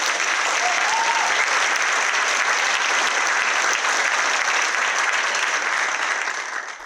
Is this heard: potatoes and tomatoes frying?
no